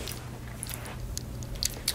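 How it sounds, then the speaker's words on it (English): Someone bites and chews a Power Crunch protein bar up close, with sharp crunchy bites and soft wet mastication sounds in an irregular rhythm, no talking. "so I'm eating this Power Crunch bar"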